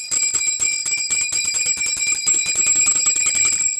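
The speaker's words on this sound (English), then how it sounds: "we have to ring the bell." A bell sound effect rings out as a fast, continuous metallic ringing with rapid repeated strikes, loud and steady for its whole length, with no talk over it.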